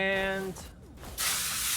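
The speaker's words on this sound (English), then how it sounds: "a little bit of WD-40 to unseize that seized bit" A short hissing spray of WD-40 on a seized, rusted brake caliper part in Car Mechanic Simulator 2021, following a brief tonal game sound and a quiet gap, loud and close.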